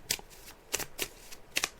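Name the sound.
shuffling a deck of tarot cards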